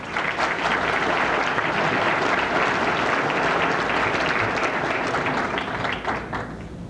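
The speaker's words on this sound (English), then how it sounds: "let's give every student a round of applause" Sustained audience applause at a high school academic awards ceremony fills a large hall, dense steady clapping at full strength for several seconds before easing slightly at the end, no voices.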